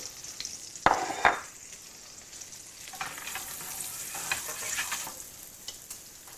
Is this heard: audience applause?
no